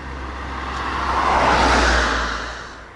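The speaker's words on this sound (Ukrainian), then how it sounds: "Зараз спробуємо піднятися тільки на самому двигуні." MXUS 48V 500W electric bike climbing a hill on motor power alone, a steady whirring drone with wind and road noise that swells to a peak midway and then eases off.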